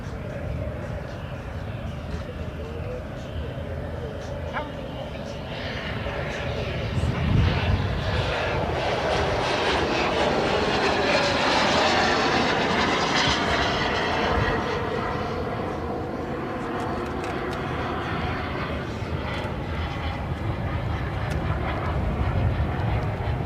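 An aircraft flies at the LMA Elvington airshow, its broad engine roar swelling to a peak midway and then holding steady at a distance, with faint voices underneath.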